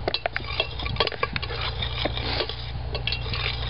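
A spoon stirring whole star anise into a pot of chutney, giving steady clinks and scrapes of metal against the pot with light patter, close and moderately loud, with no voices.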